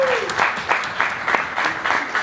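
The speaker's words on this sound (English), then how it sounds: "give her a round of applause" An audience at a Lake Tahoe science talk claps in a brief, close burst of applause, dense and even, carrying on for a couple of seconds.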